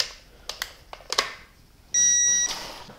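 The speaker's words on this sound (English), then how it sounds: "Once you hear it click and beep, double check." An electronic torque wrench tightening engine conrod bolts gives a few sharp clicks, followed by a steady high electronic beep lasting about half a second, in a quiet workshop.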